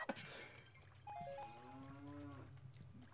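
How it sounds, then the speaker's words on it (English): A cow moos in Zelda: Ocarina of Time Master Quest, one long, close, drawn-out low call with a rising then falling tone over a steady background hum, with no talking. "Why are there cows in the walls?"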